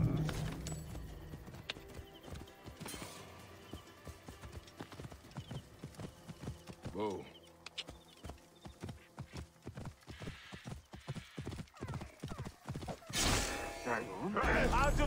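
Horse hooves gallop in a quick, steady clip-clop through an Assassin's Creed Origins battle, with a neigh, clashing combat noises and shouted voices layered over the rhythm.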